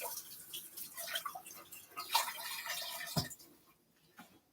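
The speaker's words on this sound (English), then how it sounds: "let me just rinse my glove off a little bit" Tap water splashing over a glove as it is rinsed, a brief, close run of spattering and trickling with a final knock before it quietens.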